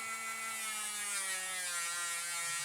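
A high-speed rotary tool wheel whines steadily while grinding a Tamiya 1/20 1976 McLaren M23 model part, its pitch sagging slightly as the motor loads up, close and constant.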